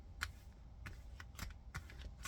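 Quiet, quick flicks and riffles of tarot cards being shuffled through by hand, several short crisp bursts spread irregularly.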